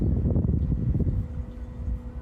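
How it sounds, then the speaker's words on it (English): Wind buffets the microphone in a steady low rumble, gusting a little stronger early on before easing slightly. "Whoa, the wind is really carrying these."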